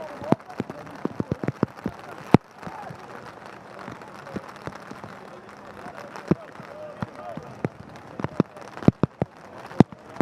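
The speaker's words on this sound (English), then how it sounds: "Might be a little bit of damage done today if the rain keeps up like this." Rain falls on a football pitch during a youth soccer match, a steady hiss of drops with scattered sharp taps and patters, while a commentator talks over it.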